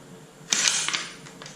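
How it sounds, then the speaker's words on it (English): Socket wrench breaking a bolt loose on a 2021 RockShox Judy Silver TK bicycle suspension fork, a short burst of metallic clicking and creaking mid-clip followed by a few fainter ticks, close and without talk. "Now we get to take this bolt off."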